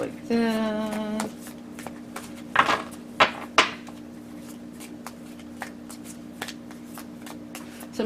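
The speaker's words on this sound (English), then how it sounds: "And then I shuffle and cut the deck and it's on top." A deck of tarot cards is riffled and shuffled up close, with a long ringing tone early and a few sharp slaps as cards are cut and squared, followed by soft handling and quiet taps.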